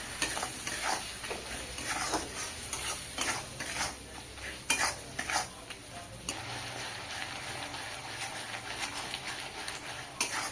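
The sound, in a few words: sautéing spices (turmeric, chili, cumin) in a pan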